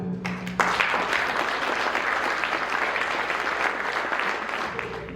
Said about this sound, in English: Now, we've given applause to all those people.